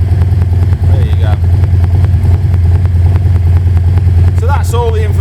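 A Harley-Davidson Low Rider S with a 114 engine and S&S exhaust idles close and loud, a deep steady throbbing rumble with a few light clatters and brief squeaks.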